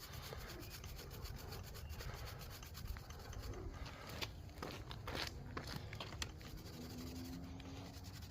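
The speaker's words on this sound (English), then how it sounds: "this is just a very fine grade steel wool. Let's see if it'll get this stuff off" Fine steel wool scrubbing pitted metal on a Honda EZ90 Cub motorcycle, a continuous close-up gritty rubbing with uneven strokes and faint scratches, no talking.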